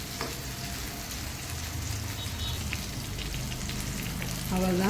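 Boneless chicken 65 fries in hot oil in a pan, giving a steady, close sizzle and crackle throughout, with a short spoken remark near the end.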